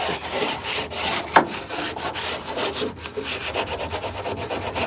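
Rhythmic scraping strokes of 80-grit sandpaper rubbed back and forth over the body of a 1959 Ford Galaxie, close and steady.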